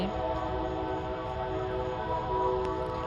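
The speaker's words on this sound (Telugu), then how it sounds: "ఇలా గూడ్స్ బండ్లు అలా గూడ్స్ బండ్లు అలా రైళ్ళు పోతానే ఉంటాయి" A steady rumble of trains, including goods trains, rolls by at a distance on a nearby railway, with a faint sustained horn-like tone over the low drone.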